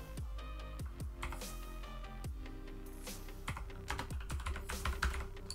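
Typing on a computer keyboard while entering a PowerShell command on a Windows 11 PC: a close series of crisp key clicks in uneven bursts, with brief pauses and a quicker flurry toward the end, no talking.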